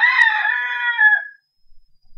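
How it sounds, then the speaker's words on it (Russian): A rooster gives a single loud, close crow that holds for about a second before cutting to silence, followed by faint clicks. "Петушок прочищает горлышко."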